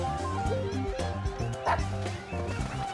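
Dog barking and yipping in a Monopoly 2017 video game, a quick series of sharp, loud barks and whimpers in close succession over the whole stretch.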